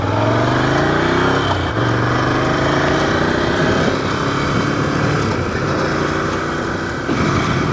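A motorcycle cruising a sunny road toward Mont Lozère, its loud engine droning steadily up close, with pitch rising and falling through gear changes and a constant rush of wind.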